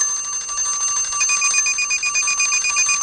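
A quiz time-up bell rings out loud and alone, a bright, continuous metallic ring that keeps sounding to the end.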